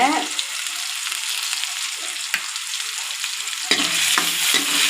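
Onions and tomatoes sautéing in a pan for a sardine fish curry, a steady close sizzle with occasional scrapes and stirring knocks from a utensil, no talking.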